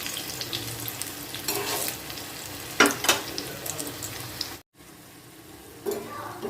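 Masoor dal fritters sizzle in hot oil at close range, a crackling fry broken by a couple of louder stirring or flipping bursts, then a brief cut before the frying resumes more faintly.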